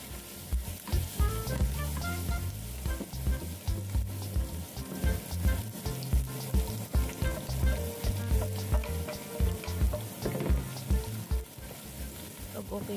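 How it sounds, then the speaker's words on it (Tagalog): Garlic and onion sauté in hot oil in a pan, giving a continuous close sizzle with rhythmic stirring scrapes throughout; a faint voice may sit underneath. "Igisa na po natin ang bawang at sibuyas."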